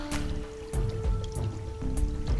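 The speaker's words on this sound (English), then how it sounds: "it's so nice to listen to trickling water" Water trickles down a tiny waterfall in Werribee Gorge, Australia, giving a steady splashing wash with brief louder surges, heard close and alone.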